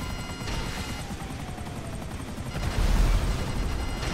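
A helicopter in a video game roars with a continuous, rumbling rotor noise that swells louder and heavier toward the end, dense and close throughout.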